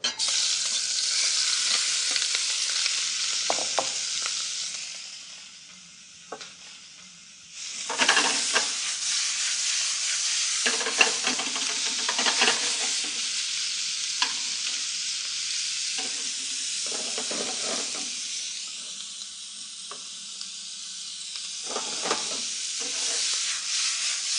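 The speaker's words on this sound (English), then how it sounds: "when the oil begins to smoke just a little bit, that's when our shrimp go in" Turmeric-coated shrimp frying in lightly smoking hot oil, a loud continuous close sizzle that dips briefly and then surges again, with scattered crackles and spatters throughout.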